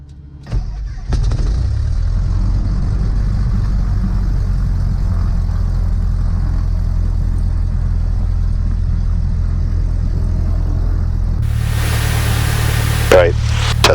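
A small single-engine propeller plane cranks over and catches, then settles into a steady, loud, close idle that drones evenly for most of the stretch, with a brief shift in tone and a sharper burst near the end.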